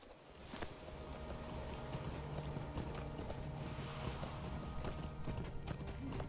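Horse hooves clip-clop at a steady trot while riding up to Gloin's camp in the online game The Lord of the Rings Online. They are heard close and continuous over a layer of game ambience and music.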